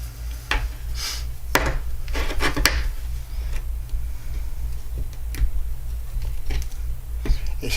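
Short scraping and ticking strokes while a piece of model railroad track is trimmed down by a tiny amount, a few sharp clicks and rasps over a steady low hum, close and fairly quiet.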